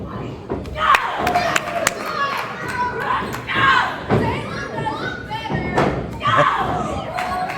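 A wrestling crowd chants in unison during a women's match, Mary Lee Rose versus Salem Wilder, with sharp thuds and slams from the ring cutting through the steady crowd noise.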